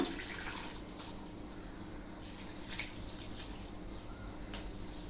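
Water pours into a pressure cooker in a steady, soft stream, faintly splashing and gurgling, with no voices.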